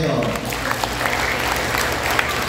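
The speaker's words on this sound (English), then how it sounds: "Palakpakan po natin yung mga yon." Audience at an awards ceremony applauds its winners, a dense, steady roar of clapping that stays loud from start to finish, with voices blending into the crowd noise.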